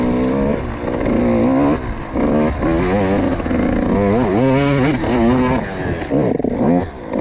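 A KTM 85 SX motocross bike rides on sand, its two-stroke engine loud and close, revving up and down in repeated surges with rising and falling pitch and a little clatter.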